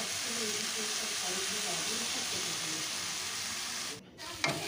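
Tomatoes fry in a pan for a Saraswati Puja tomato and jujube chutney, a quiet, even sizzle with faint stirring, briefly interrupted near the end by a short gap and a clatter.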